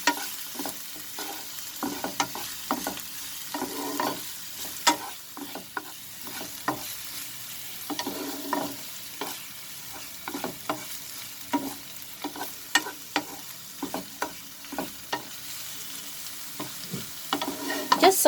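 Onions sautéing in a pan over a medium flame for sooji upma, a steady soft sizzle broken by frequent scraping clicks of a spatula stirring, close and alone without talk.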